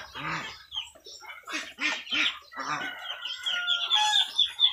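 A cluster of geese and ducks honks, quacks and clucks in short overlapping calls, fairly close, with no talking.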